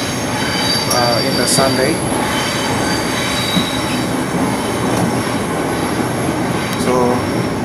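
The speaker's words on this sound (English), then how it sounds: "Finally, I'm in the train now" Interior of a moving Sydney train on a quiet morning, with steady loud rumble of wheels on track, high screeching wheel squeal throughout, and a few faint bursts of speech.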